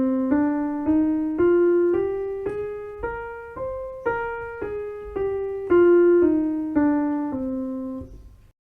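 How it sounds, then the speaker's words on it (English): C natural minor scale played note by note, ascending and then descending, sixteen even, evenly spaced tones with a clear pitched instrument, each note sounding alone and decaying slightly before the next. "So the C natural minor scale notes will be"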